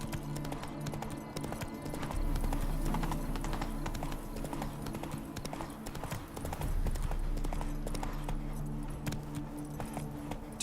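Roach the horse walking in The Witcher 3, hooves clip-clopping in a steady rhythm with jingling tack, continuous at moderate volume.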